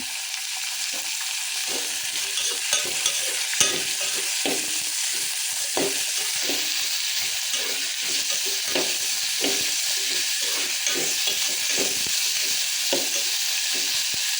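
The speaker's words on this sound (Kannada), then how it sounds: "ಸ್ವಲ್ಪ ಉಳ್ಳಾಗಡ್ಡಿ ಎಣ್ಣೆಯಲ್ಲಿ ಬೇಯಬೇಕು" Onions fry in oil in a pan, a dense continuous close sizzle carrying soft scattered taps and scrapes of stirring, heard alone without talk.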